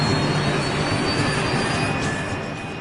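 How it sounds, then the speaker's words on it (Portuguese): A British-built BAE-146 shuttle jet airliner with quiet turbofan engines gives a steady, dense roar that fills the whole clip and fades slightly at the end, close and loud, with no talking. "Hoje, eles estão pilotando um jato de ponte aérea BAE-146 de construção britânica."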